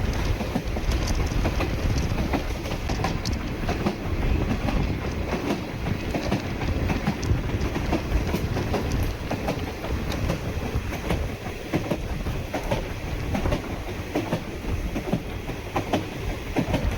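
The Chennai Egmore Express passenger train rumbles steadily along the track from Kollam, a dense, continuous roar of carriages with faint rhythmic wheel clicks throughout and no voices.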